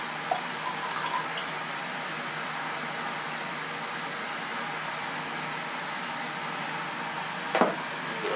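Two chemical solutions are poured together to form a silver tetraiodomercurate precipitate, giving a soft, steady liquid trickle throughout, with a faint clink near the start and a brief knock of glassware near the end.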